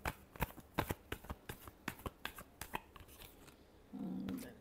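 Tarot cards shuffled by hand in a series of quick, crisp riffling snaps, close and fairly quiet, ending with a brief softer rustle.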